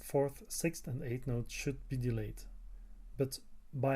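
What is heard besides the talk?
No everyday noises stand out.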